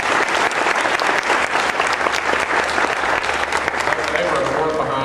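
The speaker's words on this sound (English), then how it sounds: "Let's give them a big round of applause." A crowd claps loudly and continuously at a 2005 retirement event, the full-room applause holding an even, close roar throughout.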